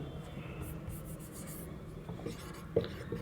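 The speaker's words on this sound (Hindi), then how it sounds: "अब एक और लिखेंगे" Chalk scratches and taps against a classroom board as a Sanskrit grammar example is written out, faint strokes with a sharper tap near the end.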